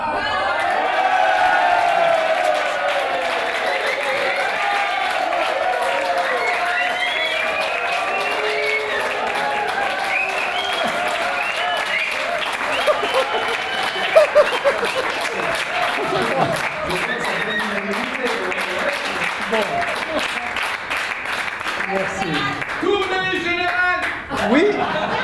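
An audience applauds and cheers in acclamation at a stage show, with sustained clapping mixed with crowd voices, chuckles and occasional whoops, continuing loudly for the whole stretch.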